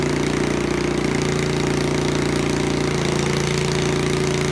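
A small 6.5 horsepower 420cc single-cylinder engine runs steadily under full alternator load, a loud, continuous labouring drone with a deep throb, close by with no talk.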